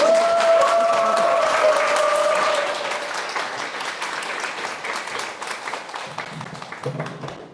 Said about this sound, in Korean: 뜨거운 박수로